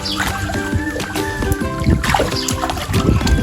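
Continuous splashing and sloshing water, close and busy, from fast kicking while swimming in a pool, with churning bursts throughout.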